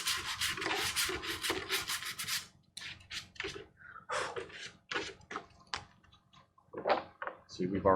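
Hand sanding of an ArmorWorks ShoreTrooper armor piece: rapid rhythmic rasping strokes in bursts, close up, with pauses and a few faint scrapes between them.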